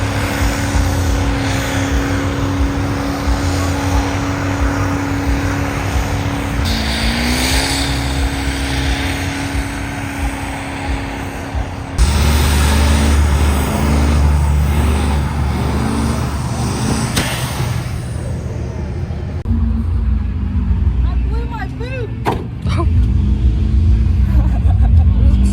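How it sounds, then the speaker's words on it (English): Loud, sustained engine roar from a truck revving hard at a Kentucky truck show burnout competition, with rising and falling pitch swells and a crowd setting; a brief speech-like murmur may sit under the noise. "Burnout competition's coming up next"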